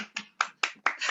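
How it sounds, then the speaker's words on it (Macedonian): Small group of about twenty people at a scout volunteer party clapping in four or five short, distinct bursts, the last one longer and fuller, close and fairly loud with no talking. "ајде, направи аплауз за 20 души."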